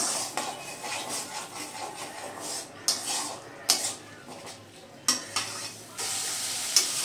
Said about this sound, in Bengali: এই সময়ে গ্যাসের ফ্লেমটা মিডিয়ামে রেখে পেঁয়াজটাকে তেল ছাড়া অবধি কষিয়ে নিতে হবে